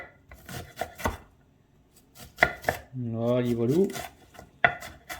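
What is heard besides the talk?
knife chopping vegetables into small cubes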